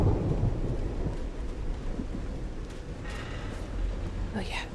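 A rolling thunderstorm in the video game Call of the Sea, with steady rain hiss and a deep thunder rumble that swells early and returns in the background through the whole stretch.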